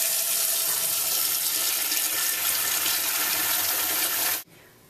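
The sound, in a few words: filling a pot with cold tap water in the sink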